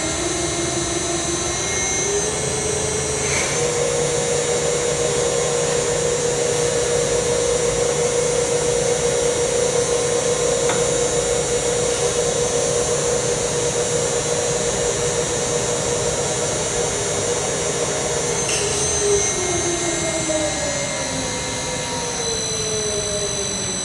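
A Pandjiris 4500 lb welding positioner with a pipe welding chuck runs at maximum speed, giving a steady, loud mechanical whine with a constant motor hum, with a tone shift near the start and end and no talking.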